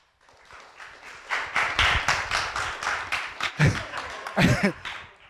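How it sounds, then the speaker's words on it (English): A small audience at an evening event at The VoiceBox in Derby applauds as Jackie comes to the front, a close burst of scattered hand claps that swells into a steady round, with a few sharper claps near the end. "Jackie comes out and gets a round of applause"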